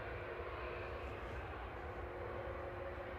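Virgin Atlantic Airbus A330-300 widebody at Manchester Airport, heard as a steady, fairly faint jet-engine rumble and whine with no clear rise or fall, continuous throughout.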